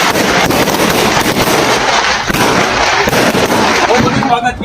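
Diwali firecrackers bursting in Dhoraji during a festive night with friends, a loud, dense barrage of rapid cracks and booms running without a break, with voices mixed into the din.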